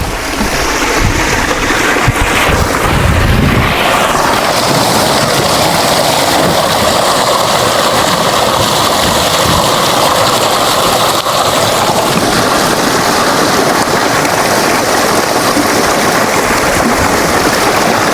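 Water flows in a stream at Ariyankavu in Kerala, a steady, loud, close rushing and babbling that continues unbroken, with a brief low rumble near the start.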